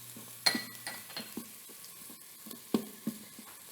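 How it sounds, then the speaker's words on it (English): Garlic and shallot sauté in oil inside an Instant Pot, a soft steady sizzle with a few sharper clinks and stirring knocks scattered through, close by and fairly quiet. "Just a little saute on that garlic will mellow out the flavor and not give it quite such a bite."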